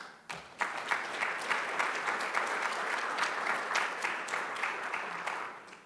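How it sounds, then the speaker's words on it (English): An audience of university volunteers at an award ceremony claps for nearly six seconds, a dense, steady roar of many hands after a brief pause at the start. "So I think you ought to give yourselves a round of applause"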